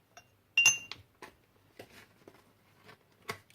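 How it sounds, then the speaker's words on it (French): A tablespoon scooping ginger powder from a glass jar, with a sharp bright clink followed by several lighter scattered taps and clicks, close and alone with no talking. "je prends une cuillère à soupe bien remplie de gingembre en poudre"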